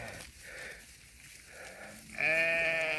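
Qardolaq breed sheep on a farm bleating, with one loud, close, wavering bleat near the end over a background of faint farm noise.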